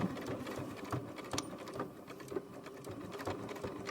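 A sewing machine stitches a zipper onto a gym bag, its needle running in a fast, steady mechanical chatter with small bursts, close but fairly quiet.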